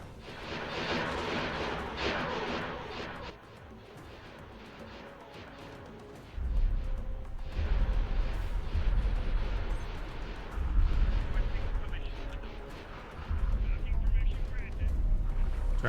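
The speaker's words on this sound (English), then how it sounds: "Get the dorsal turrets in action as well." Starship dorsal turrets fire in the Star Wars Interworlds space game, a rumbling series of heavy booming blasts rolling beneath voices and game noise, swelling louder in the later half.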